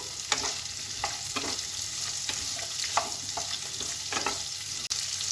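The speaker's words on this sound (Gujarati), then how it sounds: "એટલે એમાં સૌપ્રથમ આપણે ડુંગળી નાખીશું અને ડુંગળીને થોડી સાંતળવા દઈશું" Onions sauté on medium heat in a pan for a kaju capsicum masala, a constant sizzle broken by periodic spatula scrapes and stirs, close up, with no talking.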